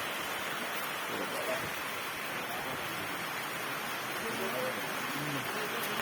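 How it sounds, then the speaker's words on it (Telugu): Heavy rain pours steadily outdoors in a village, a dense unbroken hiss of falling water, loud and close, with faint voices underneath. "ఇది కూడా కానీ వర్షం భారీ అండి"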